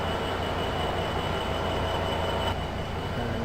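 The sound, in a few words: train standing at the station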